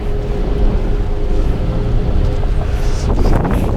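A Jeep Renegade 2.4 AWD Limited drives off-road with a steady loud rumble of engine, tyres and wind buffeting the microphone, continuous for a few seconds.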